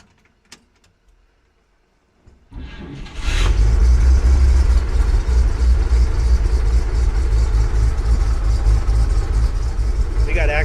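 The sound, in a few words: 1946 Chevy truck 216 engine starting and idling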